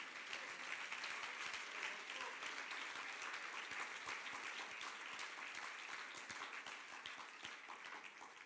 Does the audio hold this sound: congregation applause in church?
yes